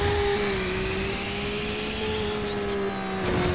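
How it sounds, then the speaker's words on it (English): Traffic cars in the racing game Need for Speed: Underground Rivals on PSP, a steady droning engine hum with sustained tonal whine and a faint rising pass near the end, fairly loud and continuous. "I heard traffic being pissed off at me"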